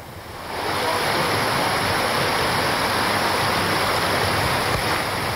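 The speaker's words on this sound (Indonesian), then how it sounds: "ratusan rumah di kota Bandar Lampung terendam banjir hingga 2 meter akibat luapan sungai Kalibalau Kencana" Floodwater from the overflowing Kalibalau Kencana river in Bandar Lampung, after heavy rain, makes a steady, loud, broadband rush that swells up within the first half second and then holds without pause.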